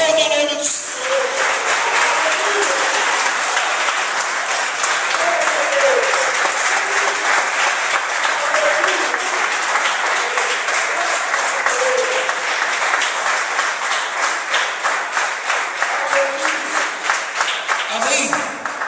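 Church congregation during a worship service breaking into sustained applause, steady rhythmic clapping throughout, with voices calling out over it.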